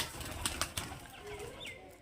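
Murshidabadi pigeons at Bali Ghat give soft, faint coos, with a few sharp flutters or taps early on, in a quiet outdoor setting.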